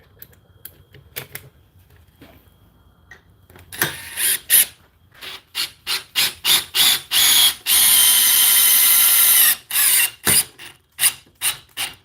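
A power drill unscrews a screw up close: several short, sharp mechanical bursts in quick succession, then one longer sustained run, then more brief bursts, all loud against a quiet background.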